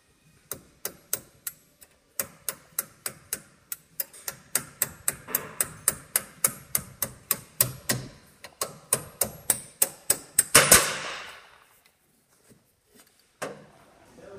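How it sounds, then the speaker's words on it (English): Steady series of sharp metal-on-metal hammer strikes on a center punch, driving the kingpin tube out of the spindle on an EZGO Medalist/TXT golf cart during a drop axle lift install; close, evenly spaced blows, then a scraping burst as it frees. "using a center punch, you need to remove the kingpin tube from the spindle, which will allow you to remove the spindle"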